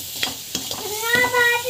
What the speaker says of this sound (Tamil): ஸோ நல்லா வந்து வறுத்து விட்டுக்கோங்க.